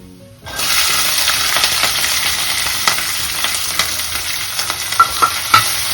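Onions and green chillies drop into hot tempering oil for a ridge gourd curry, bursting into a loud, continuous sizzle close by, with scattered clinks of a spoon stirring the pan toward the end.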